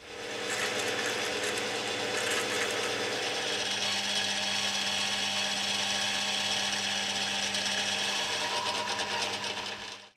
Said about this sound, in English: I'll just drill it enough to get it started with a boring bar.